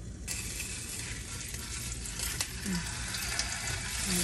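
Burger patties for a copycat Jollibee yumburger fry in a pan with a continuous sizzle and watery crackle, plus a faint scrape now and then.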